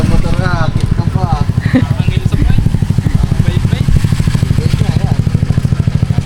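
A motorcycle engine runs close by with a fast, steady pulsing chug, as people talk loudly over it throughout.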